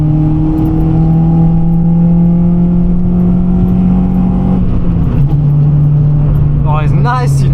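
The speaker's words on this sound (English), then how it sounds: "Will you let me bang it off the limiter in that?" Honda Civic Type R EP3 engine droning at steady high revs inside the cabin, loud and continuous, then the pitch drops as it comes off the throttle, with brief chatter near the end.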